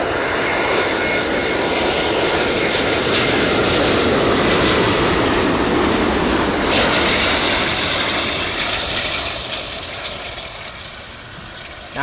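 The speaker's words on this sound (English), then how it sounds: "Beautiful A380. Let's pump up the sound for you guys as he comes in to touchdown." A Lufthansa Airbus A380 coming in to land at LAX, a loud, steady, broadband jet roar that swells through the approach and touchdown, then gradually fades away, with no talk over it.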